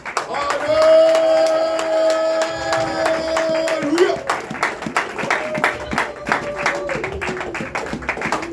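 A church congregation at a prayer vigil claps, cheers and acclaims God with loud crowd noise and rhythmic clapping over sustained music, continuing throughout.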